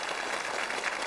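Brief audience applause for a singer on a televised singing stage, a dense, distant-sounding patter of clapping lasting about a second at modest volume.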